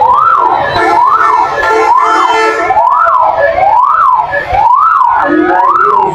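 An ambulance siren wails in a traffic jam, a loud, close, rising-and-falling tone repeating about once a second over a low rumble of engines.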